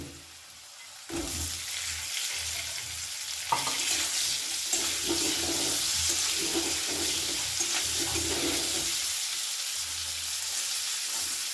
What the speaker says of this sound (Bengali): দিয়ে দেবো এর মধ্যে সামান্য একটু জল